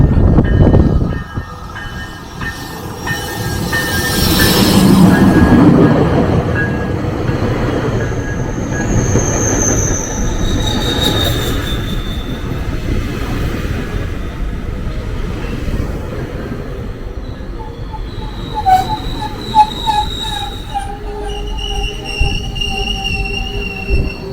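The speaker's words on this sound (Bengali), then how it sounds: "আমাদের ট্রেন চলে আসছে" A double-decker train rumbles loudly into a station in Canada, wheels screeching and squealing on the rails as it slows, with rhythmic clacking and high metallic whines toward the end.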